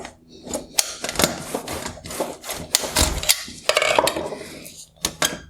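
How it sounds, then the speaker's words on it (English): A top bracket is pried out of a 2014-2017 BMW 4 Series bi-xenon headlight during teardown, giving close, irregular plastic clicks, snaps and scraping rubs with brief pauses between sharp cracks. "I now need to pry out this top bracket"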